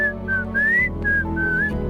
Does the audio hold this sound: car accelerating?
no